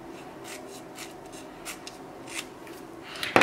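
Scissors cut through swatch stick label material in a run of quick, close snips and papery rustles, ending with a louder crinkling handling noise.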